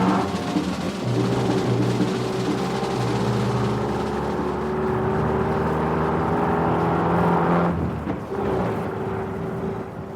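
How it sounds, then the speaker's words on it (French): A car drives off, its engine a low, continuous rumble that swells and shifts as it pulls away, fading slightly toward the end; no voices. "Je fais sortir la voiture et nous partons."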